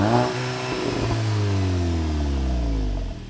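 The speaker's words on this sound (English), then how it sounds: "split exhaust tips here, and these things sound awesome." A Volkswagen Golf GTI Autobahn hot hatch with split exhaust tips revs hard, a loud close engine note climbing and falling in pitch through one strong rev over about three seconds, with no talk.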